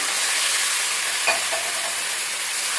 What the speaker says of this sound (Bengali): জল দিয়ে আমি মশলাটা খুব সুন্দরভাবে কষে নেব